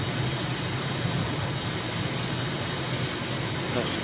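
Steady broadband roar of an airliner's engines climbing out after takeoff from a big airport near Madrid in Microsoft Flight Simulator, constant and loud with no break over a few seconds.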